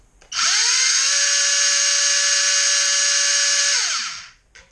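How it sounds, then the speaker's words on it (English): A high-pitched electric motor whines at full speed for about three and a half seconds, then spins down and stops; loud and close, no voices. "Again, full noise, a couple seconds, shut it down."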